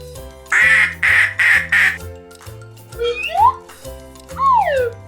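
A duck gives loud, close quacks: a quick run of four harsh quacks followed by a few longer nasal squawks with pauses between them.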